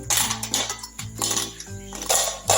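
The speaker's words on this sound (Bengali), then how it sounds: "তোমরা শব্দ শুনেই কিন্তু বুঝতে পারবে কি রকম মুচমুচে হয়েছে।" Crispy fried food is lifted out of a frying pan with a metal utensil, giving loud, close clinks and scrapes against the pan over a hissing sizzle, in several uneven bursts.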